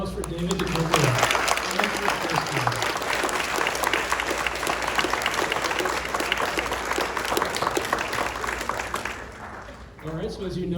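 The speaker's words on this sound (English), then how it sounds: "let's have another round of applause for David Duchovny." Sustained applause for David Duchovny from an audience at Powell's Books fills the room, dense clapping throughout, with a voice speaking over it at the start and again at the end.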